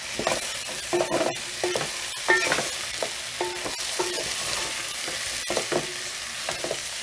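Chopsuey with chicken and beans stir-fried in an uncovered pan, with steady sizzling under repeated scraping and tossing strokes of a utensil against the pan, close and continuous without talk.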